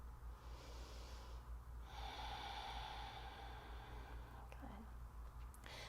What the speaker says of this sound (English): And take another big breath.